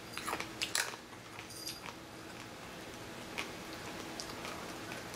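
Creamy ranch flavored corn nuts crunch between the teeth, with a few sharp bites up front followed by quieter, scattered crunching over a soft background hiss.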